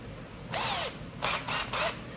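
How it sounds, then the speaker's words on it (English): A cordless drill spins an arcade joystick handle from a Galaxian cabinet restoration in three short whirring bursts, the first with a falling pitch sweep and two quick bursts following, close and alone. "I'm gonna put it in my cordless drill."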